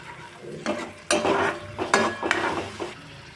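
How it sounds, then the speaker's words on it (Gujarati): Tomato puree and spices are stirred in a pan for a chickpea curry, a spoon scraping and clinking in a few uneven strokes over a low sizzle, close and fairly quiet. "હવે આપણે ફ્રેન્ડ્સ બધું મિક્સ કરી લઈશું"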